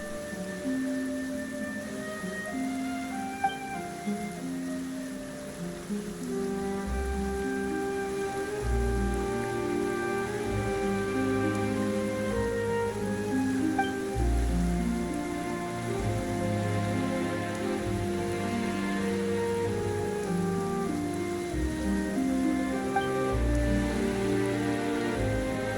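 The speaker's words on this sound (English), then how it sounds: "Why is it raining all of a sudden?" Steady rain patters continuously in Genshin Impact beneath a prominent melodic music score that plays throughout.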